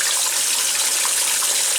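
Water gushes steadily into the tub of a 1996 Maytag Dependable Care Plus washing machine as it fills, a loud, dense, continuous rush with no voices.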